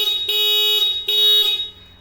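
The original stock horn on a Kinetic Honda 90 scooter sounds in two long, loud honks, each a steady, piercing electric buzz held for nearly a second, heard up close with no voices.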